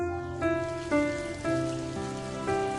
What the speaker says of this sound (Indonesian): dan suara hujan yang sering muncul di Wusu